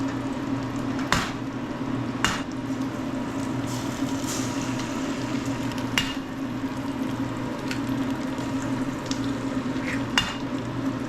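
Eggs frying in a pan next to finished sausages while cooking Indomie noodles, a steady crackling sizzle with occasional sharp clinks of a utensil against the pan, close and continuous throughout.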